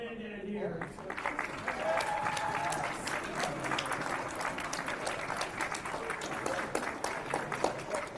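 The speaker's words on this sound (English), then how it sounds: "Big round of applause for Man here." An audience at a North Dakota esports state tournament main stage claps steadily in a sustained round of applause, fairly close and full, after a brief opening moment.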